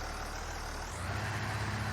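A heavy engine drones steadily with a low, throbbing rumble that shifts slightly midway. It is constant and close, with no voices.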